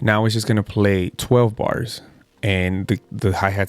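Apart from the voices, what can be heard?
No everyday noises stand out.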